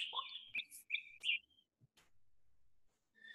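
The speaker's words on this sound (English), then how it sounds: "It's an endangered species known as a piping plover." An endangered piping plover, a shorebird, gives clear piping whistles on the South Fork in spring, a few short calls close by followed by quiet and a faint further note.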